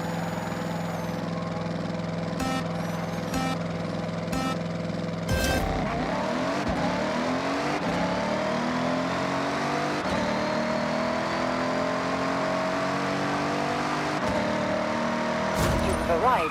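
Supercharged car engine in the Forza Horizon racing game revving hard through a quarter-mile run, a sustained loud whine with rising pitch sweeps as it accelerates and shifts, with a brief talking voice over the start.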